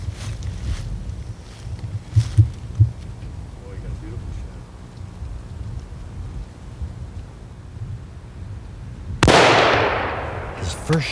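A single loud, close rifle shot fired at a big bull elk on a 1988 Michigan hunt cracks out near the end and rolls away in a booming decay, after a long stretch of quiet outdoor rumble.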